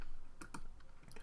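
Typing on a computer keyboard gives a few quick, close key clicks in an uneven burst, two sharp taps close together, then lighter ones, against a faint background hiss.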